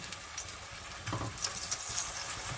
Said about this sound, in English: we're going to take our eggplants like so, and we're going to put the seasoned side down into the oil